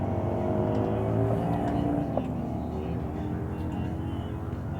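A 2001 Gilroy Indian race motorcycle at an SCTA meet on the El Mirage dry lake runs as a sustained engine roar at a distance, steady and unbroken over constant background rumble, with no clear peak as it passes.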